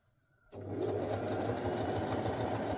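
A sewing machine stitches a princess seam on a coat, starting abruptly after a moment of near silence and then running at a steady, close, even hum with a fast, regular needle rhythm.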